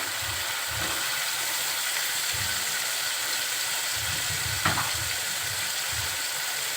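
Boiled beef tripe dropped into sizzling spiced oil in a pan, a constant close frying hiss with occasional stirring scrapes and one brief sharp clatter partway through.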